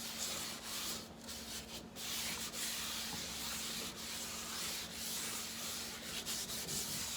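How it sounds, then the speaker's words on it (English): Oil being rubbed by hand over a dry cast iron pan, edges and handle included: a steady, close, continuous dry scuffing friction with brief harder strokes, with no talking. "This is a dry pan. And I am just rubbing it with the oil."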